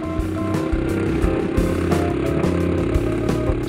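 A Chinese Super Cub clone motorcycle engine runs steadily up close after carburetor cleaning and main jet adjustment, a loud continuous mid-pitched putter with regular firing pulses.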